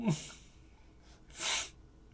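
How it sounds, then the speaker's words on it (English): A couple of sharp nasal sniffs, breathy and close, with quiet pauses between them. "Sorry for the sniffles."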